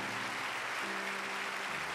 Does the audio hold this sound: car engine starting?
no